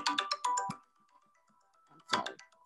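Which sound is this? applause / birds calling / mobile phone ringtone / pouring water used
mobile phone ringtone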